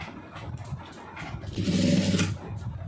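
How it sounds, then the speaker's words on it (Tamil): A sewing machine stitches fabric while a blouse cup and neckline are sewn, a steady mechanical hum rising for about a second mid-clip, close and moderately loud, with faint talk around it. "இப்போ இதில் வந்து நீங்கள் தையல் போட்டுடலாம்"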